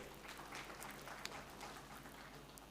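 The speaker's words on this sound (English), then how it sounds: "A round of applause for the Minister, ladies and gentlemen." Applause for a minister at the commissioning of the BOTSAT1 ground communication station, a faint, steady wash of clapping from a distant crowd that runs evenly throughout, without speech.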